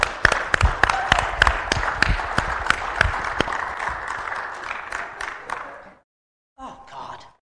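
An audience claps for a touring band at an Amador County Christmas show, crisp individual claps over a wash that fades across six seconds, then a short gap before a brief voice.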